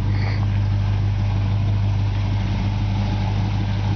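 A 1948 Ford Coupe engine idles steadily close by, a deep, even low rumble holding for the whole stretch with no voices over it.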